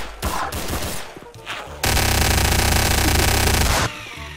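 Gunfire in the sandbox game Garry's Mod on a DarkRP server, a few scattered shots followed by a loud, sustained rapid automatic burst lasting about two seconds before stopping.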